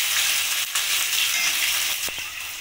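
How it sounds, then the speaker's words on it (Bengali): Chopped onion fries in hot oil with spices, a loud and close continuous sizzle. A brief stirring scrape and a couple of soft clinks come near the end. "এবার আমি পেঁয়াজ কুচিটা যা রেখেছিলাম সেটা আমি দিয়ে দেবো"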